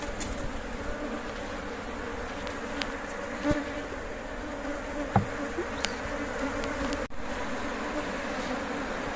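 Honeybees at an open homemade horizontal Langstroth beehive during an inspection make a steady, dense hum, close and continuous, with a few faint handling knocks and no talk.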